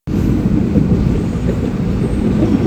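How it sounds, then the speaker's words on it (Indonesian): Logawa economy-class passenger train of Kereta Api Indonesia running, a steady low rumble and rattle of the carriage rolling continuously without pause, heard from inside at close range. "selamat datang di Kereta Api Logawa yang akan mengantarkan kita"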